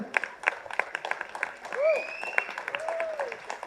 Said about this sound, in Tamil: பெரிய கைத்தட்டல் கொடுக்கலாம்